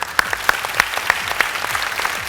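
A comedy show audience breaks into rhythmic applause, with the clapping loud and close and coming in a quick, even beat for a couple of seconds.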